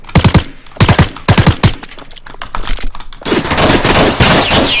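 Rapid automatic gunfire rattles loudly in a 1v1 video game match, coming in several quick bursts before settling into a dense, continuous stream of shots.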